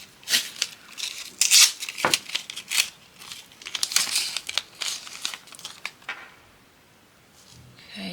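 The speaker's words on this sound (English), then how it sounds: "Just going to put another piece of tape across there." Tape is pulled and pressed across a fabric wardrobe cover, giving a busy run of close crinkling, rustling and tearing sounds that fade toward the end.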